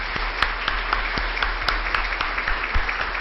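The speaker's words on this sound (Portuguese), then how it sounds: "Mas eu gostaria uma salva de palmas para todo mundo." A seminar audience applauds presenters after project presentations, a continuous, fairly loud round of clapping with a few sharp individual claps standing out over the crowd's steady patter.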